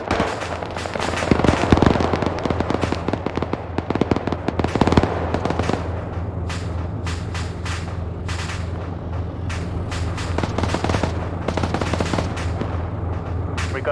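Gunfire rattles through an Arma 3 firefight at a Syrian factory, with rapid bursts and sharp single cracks, dense early then sparser and spaced, over a steady low engine hum.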